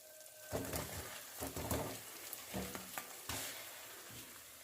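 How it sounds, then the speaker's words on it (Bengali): Fried potatoes drop into a sizzling spice masala with a burst of frying, then several scraping stirs over a steady close sizzle, no voices. "এবার এর মধ্যে দিয়ে দেব ভেজে রাখা আলুগুলো"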